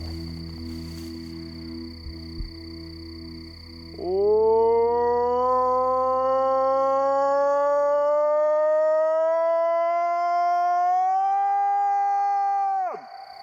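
A person imitates a Bigfoot howl, one loud sustained call rising slowly in pitch for about nine seconds before stopping abruptly in a quiet outdoor setting.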